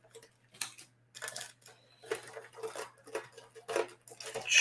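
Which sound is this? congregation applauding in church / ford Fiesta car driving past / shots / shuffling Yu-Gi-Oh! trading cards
shuffling Yu-Gi-Oh! trading cards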